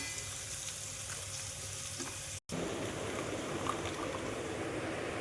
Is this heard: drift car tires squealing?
no